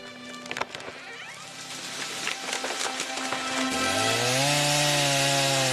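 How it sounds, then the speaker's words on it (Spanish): A chainsaw buzzes and whines felling chestnut trees, engine pitch rising and falling as it cuts through wood, loud and close with scraping noise underneath. "Mientras las motosierras emiten su característico ronroneo mecánico, los operarios van apeando cada uno de los árboles de la finca."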